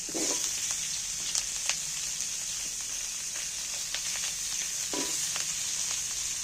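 Large-cut onions frying in oil for a home-style chicken curry, giving a steady close hiss and sizzle throughout with occasional pops and clicks of stirring.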